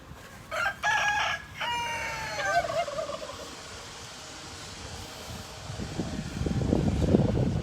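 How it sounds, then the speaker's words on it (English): A farm rooster crows loudly and nearby in one long, harmonic call that falls off at the end, followed by quieter ambient noise and a rising rustle of farmyard activity. "Another rooster."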